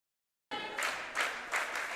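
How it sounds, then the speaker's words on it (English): Home crowd at a girls' high school basketball game applauding and cheering during a timeout: after a moment of silence, clapping and cheers rise suddenly and continue in surging waves, moderately loud and fairly close. "As the Mustang faithful get up and cheer."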